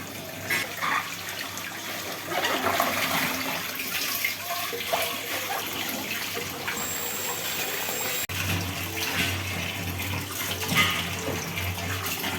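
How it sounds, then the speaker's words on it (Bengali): Plates and dishes are washed under a running kitchen tap after cooking: a steady, fairly loud rush of water flows for about twelve seconds, with one brief break near the end and no voices. "এখন যা প্লেট বাসন ছিল ওইগুলো ধুয়ে মুছে"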